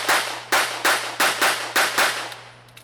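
Six sharp gunshots ring out in a quick, evenly paced string at a USPSA shooting match, each a loud crack with a short decaying tail, then the range falls quiet near the end.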